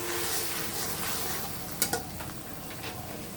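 Ground spice paste and turmeric fry in a pan for a chicken and green banana curry, giving a quiet steady sizzle with a couple of brief scraping clinks partway through.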